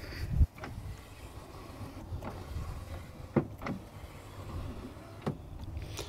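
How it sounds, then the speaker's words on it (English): An electric entry step on a 2004 Timberland Freedom 2 motorhome running out, a faint steady motor whir with a few soft clicks and clunks, heard alone. "Electric step."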